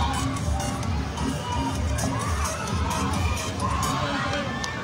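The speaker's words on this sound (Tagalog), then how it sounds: "papalakpakan nyo lang po na may kasamang hiyawan ang gusto nyong manalo" A dense outdoor crowd at a game show event along the Marikina riverbanks claps and shouts together to vote, a continuous loud roar of cheering, screaming voices and applause with no pauses.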